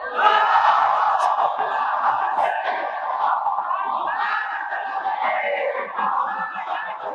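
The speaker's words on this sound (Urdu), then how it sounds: "میرے مولا کی زیارت اور کربلا کی اربعین کی زیارت کے لیے بابا سے بلند صلوات پڑھو." A congregation at a Shia majlis loudly reciting salawat in unison, a sustained, strongly voiced chorus of many people chanting together, full and near, with rising and falling swells of voices.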